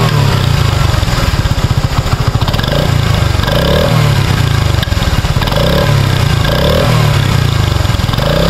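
A Honda CD 80 motorcycle engine runs loud and close, its steady idle rising and falling through several revs with a throbbing, pulsing chug.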